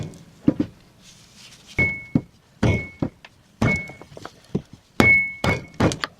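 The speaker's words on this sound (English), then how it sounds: "I'm just using a rubber mallet to start it off with." Rubber mallet striking a brake part during a two-piston big brake upgrade: about a dozen dull thunks in an uneven series, some followed by a brief ringing tone, close and alone.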